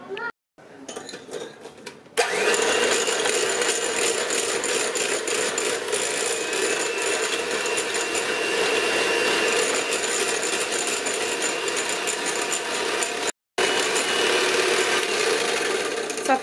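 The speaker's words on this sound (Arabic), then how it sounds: "وغادي نطلع كلشي بالطراب الكهربائي" An electric hand mixer whips cream for a strawberry dessert, starting after a brief pause and then droning loud and close in a steady whir, cut once by a short stop.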